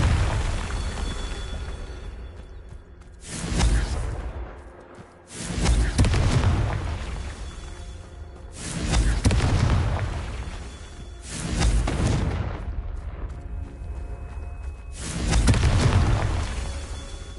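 Confringo spell blasts in the video game Hogwarts Legacy go off one after another, five loud booming explosions with whooshing tails spaced a few seconds apart, separated by quieter lulls.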